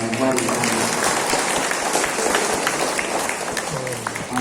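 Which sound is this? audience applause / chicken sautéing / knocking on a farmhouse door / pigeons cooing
audience applause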